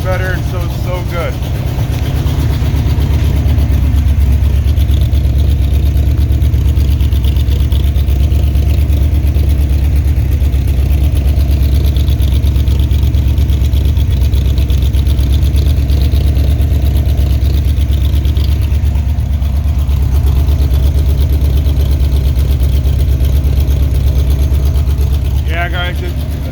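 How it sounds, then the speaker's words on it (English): A 1966 Chevy C20 pickup with a newly finished exhaust idles steadily, a deep continuous rumble heard close by for the whole stretch, with someone talking over it at times. "Got all the exhaust in now. Sounds great."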